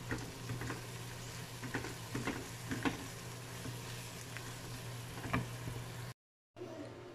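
Chicken with onion and turmeric powder sizzles and fries in a pan while being stirred, with a steady frying hiss, scattered scraping clicks of the utensil and a low hum, then a brief cut to silence.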